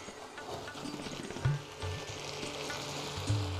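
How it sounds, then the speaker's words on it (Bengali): Spices and vegetables for labra are stirred in a pan, a faint low sizzle broken by two louder utensil knocks, with quiet tonal background sound throughout. "আমি এগুলো একটু ভালো করে মিশিয়ে নিই।"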